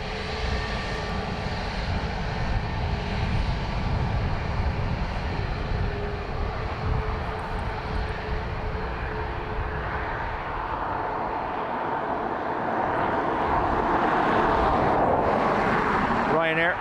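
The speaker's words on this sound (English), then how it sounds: "Ryanair from Amsterdam." A Ryanair jet from Amsterdam lands at Dublin Airport, its engines a continuous broad roar that builds louder toward the end, with a voice speaking over it.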